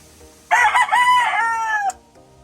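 Gamefowl rooster at a backyard breeder crowing once, loud and close, a drawn-out cock-a-doodle-doo lasting under two seconds against a quiet yard.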